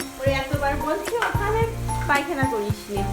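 Tomato paste sautéing in a pan for prawn malai curry, a steady sizzle with repeated spoon strokes scraping and stirring, close by, while background music plays and a voice speaks over it.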